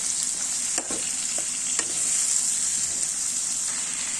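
Chopped tomatoes frying in a pan give a loud, continuous hiss of sizzling oil close by, broken by a few spoon scrapes and taps as they are stirred.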